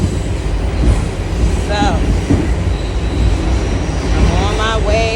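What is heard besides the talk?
riding inside a local C subway train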